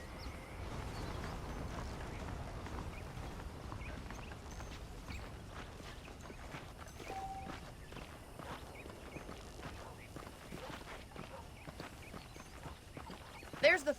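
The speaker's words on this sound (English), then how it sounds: "The horses are saddled up over here." Horse hooves clip-clop at a walking pace in Red Dead Redemption, soft and steady under a faint background bed, with a brief louder knock near the end.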